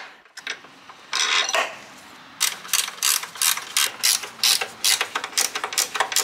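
A hand ratchet tightens the rear engine mounting bolts on a Perodua Kelisa, clicking in repeated fast bursts of pawl clicks with short pauses between them, close and fairly loud, with no talking.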